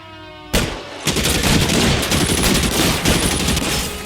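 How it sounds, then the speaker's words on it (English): A gun battle in the video game L.A. Noire, opening with a sudden loud shot and then dense, sustained rapid fire that rattles on continuously. "Lay down some covering fire."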